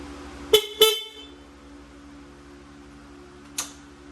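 An aftermarket horn on a Honda CBR500R motorcycle sounds two short, sharp honks in quick succession, followed a few seconds later by a softer, briefer beep over a low idling hum.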